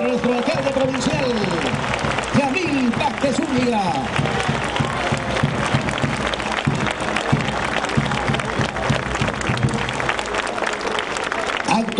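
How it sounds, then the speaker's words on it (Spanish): An audience at a provincial mayor's swearing-in ceremony claps loudly and continuously, dense applause throughout with an announcer's voice speaking over it. "Démosle fuertes y cariñosos aplausos para nuestro alcalde provincial"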